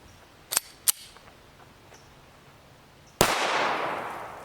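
A Smith & Wesson M&P pistol with a 9mm conversion barrel fires 94-grain frangible rounds: two sharp cracks in quick succession, a pause, then a louder close report with a lingering decay.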